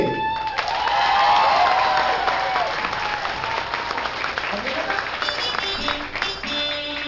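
Audience applause at a live comedy show, a full crowd clapping steadily for several seconds with some cheering and shouting mixed in, then thinning out as a voice comes through.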